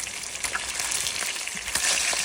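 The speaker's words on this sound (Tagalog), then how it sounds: "I-fry muna natin ang pork chop hanggang siya ay maluto." A pork chop fries in a pan with a steady, bright sizzle and crackle, loud and close, and no voices over it.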